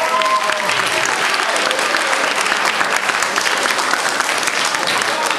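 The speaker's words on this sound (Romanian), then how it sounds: "Să-i aplaudăm, toți sunt la fel de frumoși" Audience at a high school freshman ball claps loudly and continuously, a dense steady wash of many hands throughout.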